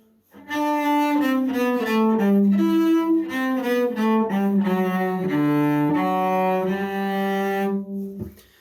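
A bowed cello plays a slow melodic passage, shifting up to a high note in second position and then settling back down to first, sustained and solo.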